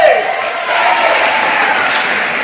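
Audience applause at a college Karnataka Rajyotsava function during an inter-college competition: a loud, dense wash of clapping from a large crowd, sustained throughout.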